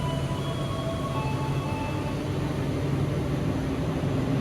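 A Malioboro Express passenger train departing Purwokerto, heard as a steady low rumble of railcars with faint squealing tones, even and continuous, with no talk.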